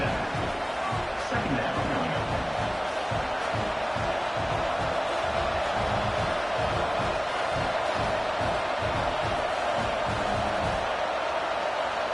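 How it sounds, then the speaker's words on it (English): Stadium crowd in an American football video game roars steadily through a red-zone drive, a dense, constant wall of cheering and murmur with no break, loud and continuous for the whole stretch. "This crowd knows they have to bring it in big moments"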